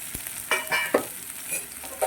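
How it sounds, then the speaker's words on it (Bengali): Chopped papaya and pointed gourd vines are stirred in a hot pan with a low sizzle, a few sharp spatula scrapes and clinks breaking through. "একটু নেড়ে ছেড়ে নেব"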